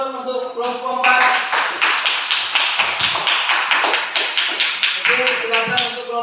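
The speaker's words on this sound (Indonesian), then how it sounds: "Silakan aplaus untuk kelompok" Classroom applause for a student group: many hands clapping in a steady, fast patter close by, with voices mixed in underneath.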